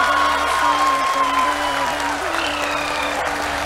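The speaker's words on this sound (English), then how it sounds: "People are applauding." Audience applause at the ISRO mission control event for the Chandrayaan-3 lunar landing, a steady dense wash of clapping throughout with tonal voices and talk faintly mixed underneath.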